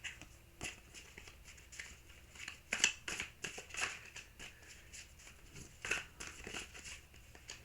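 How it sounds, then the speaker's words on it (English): Tarot cards are shuffled by hand in quick, soft riffling and slapping bursts, faint and close, with irregular clusters of papery snaps. "I'm not going to take it because I'm not done shuffling"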